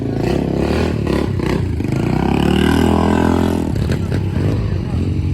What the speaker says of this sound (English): Legendary Norton Commando.